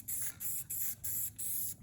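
Black spray paint hisses from an aerosol can over a stencil in short, close bursts, roughly five or six quick sprays separated by brief pauses.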